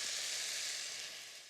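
Onions cooking down in a pan for an Irish lamb and sweet potato stew, giving a steady, soft, close sizzle that fades slightly toward the end, with no talking.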